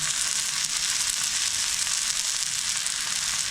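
Oil sizzles steadily and loudly on a thalipeeth flatbread made from wheat, rice and chickpea flour, cooking on a tawa over medium heat, a continuous close hiss without speech.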